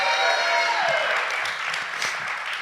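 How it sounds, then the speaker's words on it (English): An audience at a recovery-themed show claps for a guest, loud sustained applause with a fading tonal music sting in the first second, the clapping continuing evenly to the end. "Give Edwin a nice round of applause."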